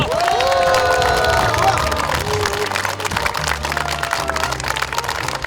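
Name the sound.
applause and cheering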